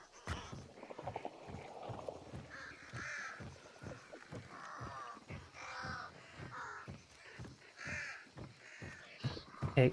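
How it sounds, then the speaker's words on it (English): Crows in the video game Hunt: Showdown caw again and again in a dense, rhythmic chorus of harsh calls, close and steady across the whole stretch with no talking. "Hey, crows, can you just go, please?"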